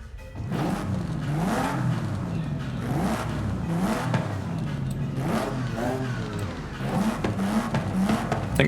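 A flat-four turbo rally engine in Forza Horizon 5 revs up and down in repeated rising and falling sweeps, a close, steady and loud buzzing engine note with no talking over it.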